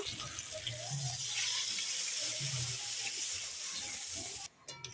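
Fish curry broth for a hilsa dish with potato, eggplant, green chilies and turmeric pours into a hot pan, a steady loud watery rush with sizzling hiss that cuts off abruptly near the end.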